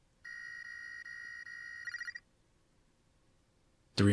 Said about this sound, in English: the phone's ring grew louder, ever so gradually